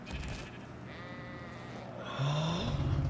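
Sheep bleats from the video game ARK with mods, several short, wavering cries in quick succession, fairly close and clear against a quiet game background, with no talk over them.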